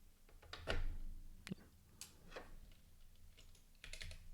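Typing on a mechanical computer keyboard, a sparse run of quiet, close individual key clicks with a brief faster flurry near the end, no talking.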